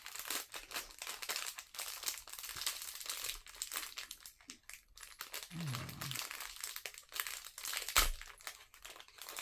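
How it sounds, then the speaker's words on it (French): Wrapping paper crinkles and crunches steadily as a small wrapped present is opened, close and fairly quiet, with a louder tearing rustle near the end. "Alors, on va ouvrir ce petit présent."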